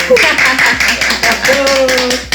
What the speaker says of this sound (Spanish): Así que recibamos con un aplauso a nuestro invitado.